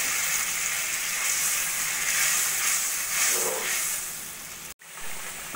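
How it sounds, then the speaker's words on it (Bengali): Water poured into a hot pan of spiced fried potatoes for pabda fish curry, setting off a loud, continuous close hiss of steam that swells and fades, broken by one brief cut near the end. "মিশিয়ে নিয়ে আমি দিয়ে দেবো এবার পরিমাণ মতো জল।"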